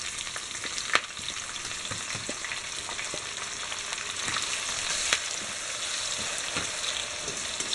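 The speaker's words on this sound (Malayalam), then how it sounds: "ഈ എണ്ണയിലേക്ക് തന്നെ നമുക്ക് കറിവേപ്പിലയും വറ്റൽമുളകും സവാളയും കൂടെ വറുത്തെടുക്കാം" Curry leaves, dried chillies and sliced onion frying in hot oil, a steady, bright sizzle that carries on throughout, with a few sharp pops and the occasional scrape of stirring.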